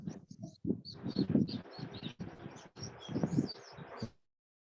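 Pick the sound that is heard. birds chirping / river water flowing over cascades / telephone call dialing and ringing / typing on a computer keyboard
birds chirping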